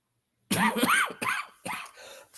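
Several harsh coughs in close succession from one nearby person, heavy and chesty, with short silent gaps between bursts and nothing else heard.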